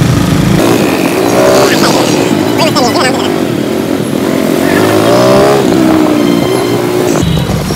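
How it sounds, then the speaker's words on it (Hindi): Loud, dense street traffic in India, with revving motorcycles and passing cars forming a continuous engine roar close by, as someone speaks over it. "ट्रैफिक काफ़ी हो रहा है यहाँ पे"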